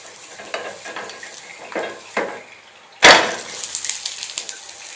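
A flipped eggless gram flour omelette frying in a pan, with scraping turns of a spatula, a sharp clatter against the pan, then a brighter crackling sizzle close by without speech.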